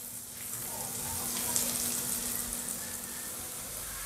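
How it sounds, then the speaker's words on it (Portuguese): Garlic alone frying in hot oil in a pan while cooking rice with tomato sauce and corn, giving a steady, soft sizzle with a faint low hum underneath and no voices. "óleo esquentou, vamos colocar o alho, somente o alho"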